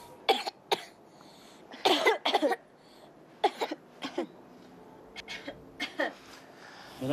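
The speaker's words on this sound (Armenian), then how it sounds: "Տղաս, կրկին հազա խնդրեմ։" A young boy gives a series of short, close coughs during a doctor's examination. The coughs come in small bursts separated by pauses, and an adult speaks softly in between.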